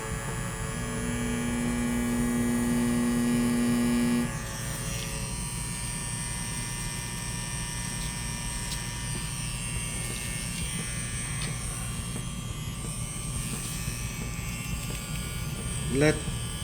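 A small permanent makeup machine runs with a steady high electric buzz and hum throughout, its pitch shifting as the voltage changes partway through, under a constant background drone.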